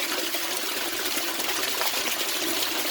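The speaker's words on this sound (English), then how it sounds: "There goes a full flush." Water flushes through a U siphon in an aquaponics barrel, a steady close rushing gush that runs unbroken with no voices over it.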